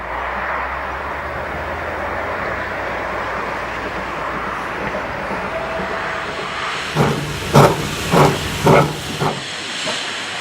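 A steam locomotive at a Welsh colliery hisses in a steady, loud wash of escaping steam, then gives several short rhythmic chuffs toward the end.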